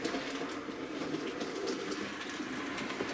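A rebuilt West Country class model locomotive runs over Peco track and points in a fiddle yard, a faint steady rolling rumble with light clicking from the wheels.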